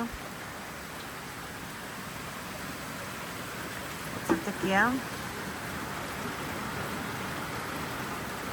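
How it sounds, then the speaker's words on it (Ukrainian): Steady, even hiss of rain falling, with a short spoken phrase partway through. "але от, бачите, дощик"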